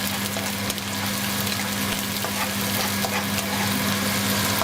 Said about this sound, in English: Next I'm going to add my minced garlic. And we're going to give that a good stir